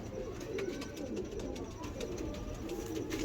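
Pigeons coo softly and repeatedly against a steady, noisy background hum, with no clear speech.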